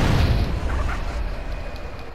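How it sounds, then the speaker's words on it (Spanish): A single explosion in GTA San Andreas, near a quarry where dynamite is in play: a loud, deep boom already underway that rumbles and slowly fades over about two seconds. "¿Es explosión?"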